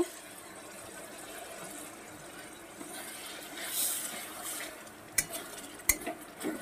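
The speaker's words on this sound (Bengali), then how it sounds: "এই পর্যায়ে আমি সামান্য একটু জল দিয়ে দেব" A splash of water hits spice paste frying in a pan for egg and potato dum, raising a swelling hiss, then sharp clinks of a utensil against the pan. The sound is fairly quiet overall.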